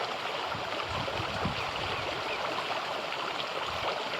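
A cold stream flows in a steady broadband rush with no break, moderately loud and close, and no one speaks.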